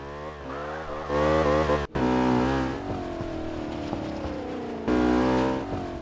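A car in Gmod drives a lap with a continuous engine whine that climbs in pitch through gear changes, drops out with a brief cut, then resumes steady and loud with no talk.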